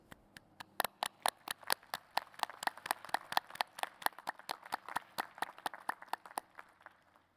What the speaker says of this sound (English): We applaud you for your achievements.